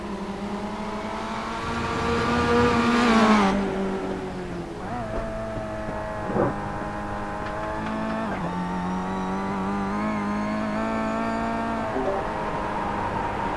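Sim race cars in iRacing at a Malaysian championship event: sustained harmonic engine drone with rising and falling pitch as cars accelerate and pass, steady and fairly loud throughout with no talking.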